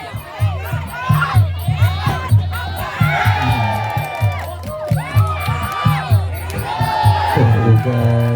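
A Thai crowd at a Muay Thai fight cheers and shouts in rhythmic bursts, with loud collective yells pulsing close together and voices rising over a steady beat.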